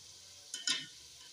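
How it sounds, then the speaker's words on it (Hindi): Fried koftas in a pan with green chillies and peas being added and stirred, a faint background sizzle broken by two quick scraping stirs mid-clip, no talk. "अब इसके अंदर डालूंगी सब्ज मिर्चें और मटर। थोड़ा सा इनको भून लेते हैं।"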